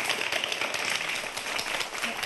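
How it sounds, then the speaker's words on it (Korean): Audience applause for a lecturing professor after a talk on fat tissue, a dense, steady wash of many hands clapping, fairly loud and continuous throughout. "교수님께 여러분 박수 부탁드리겠습니다."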